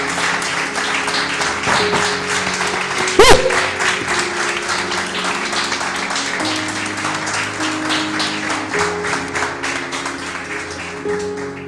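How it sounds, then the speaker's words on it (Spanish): A church congregation applauds in praise during a sermon, with steady, sustained clapping that carries on for the whole stretch, backed by a low held musical tone and one sharp louder knock partway through. "Dile un fuerte aplauso al Señor."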